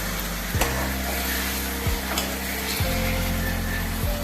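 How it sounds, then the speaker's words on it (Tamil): Ginger and mint leaves sauté in a pan over a medium flame for a ginger-mint thokku, making a loud continuous sizzle close by with a few recurring falling tonal sweeps and no talk. "இப்போ பாதி வதங்கி எடுத்து இப்போ மீடியம் ஃப்ளேமில் வச்சுக்கலாம்."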